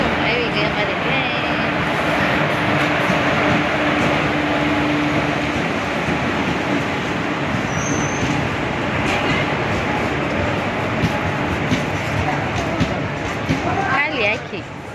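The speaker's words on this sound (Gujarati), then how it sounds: "આવી ગઈ અમારી ટ્રેન." A passenger train pulls into a station platform, its continuous rumble and rail noise filling the scene up close, with people talking over it throughout.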